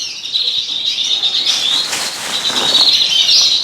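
Breeding cock and hen birds chirp and twitter continuously at close range, a dense, high-pitched chatter with no voices.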